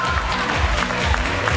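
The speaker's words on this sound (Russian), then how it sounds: "Аплодисменты!" Audience applause at a dance competition award ceremony, a loud, dense wash of clapping with some crowd noise, heard briefly as one continuous burst.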